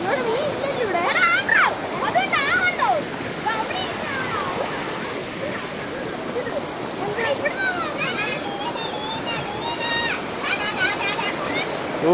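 Water pours steadily from a large pipe into a paddy field, a continuous rushing, splashing flow heard close by under people talking throughout.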